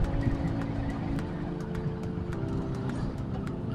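A standby emergency vehicle's siren sounds on a road during a morning drive, faint and mixed into the rumble of traffic and engine noise, continuous over a few seconds with no talk.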